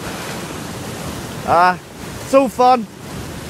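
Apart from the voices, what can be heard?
ocean waves surging at shore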